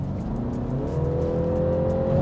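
A 2021 BMW 330e M Sport plug-in hybrid accelerates in sport mode, its engine note rising steadily into a sustained hum, heard from inside the car with no talk.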